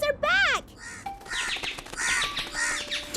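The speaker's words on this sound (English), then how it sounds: "Oh no! The crows are back!" Several crows caw in harsh, repeated calls in a cartoon scene, loud and close, interleaved with bursts of bright animated voices talking.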